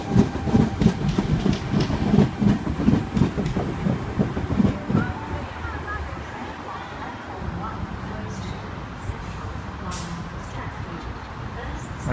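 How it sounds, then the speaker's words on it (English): A 4-car Tangara electric train at a Sydney Trains station platform in Epping, with rumbling carriages and rhythmic wheel clatter that fade to a steady low hum, with voices in the background. "4-car Tangara service, T75 now, departing platform number 1, Sydney Terminal service."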